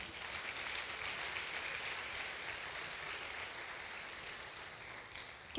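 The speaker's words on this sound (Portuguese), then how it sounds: "Pode aplaudir ao Senhor." Church congregation applauding the Lord during a worship service, a steady, dense wash of clapping that carries on without a break for several seconds at moderate, even loudness.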